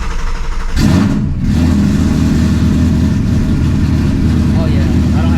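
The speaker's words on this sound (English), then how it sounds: "let's go ahead and get a cold start" A 900 HP car engine cold-starts with a sudden cranking burst at about one second, then settles into a loud, steady rumbling high idle close by.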